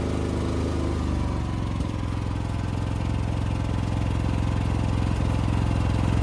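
A Predator 5000 inverter generator runs with its eco throttle engaged, a steady close engine drone with a low pulsing hum that shifts slightly in pitch partway through, then holds even and continuous.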